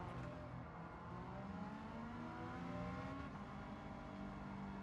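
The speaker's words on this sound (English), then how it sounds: "Although, I'll tell you what, it has a very throaty engine." A throaty car engine in the video game Gran Turismo 7 revs steadily, its pitch shifting up and down in a continuous roar with no talking.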